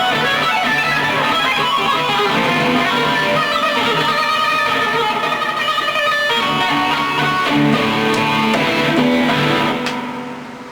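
Dense, sustained electric guitar notes from two-handed hammer-ons in a metal style, a continuous stream of blurred legato notes, loud and close with no voices, thinning out at the end.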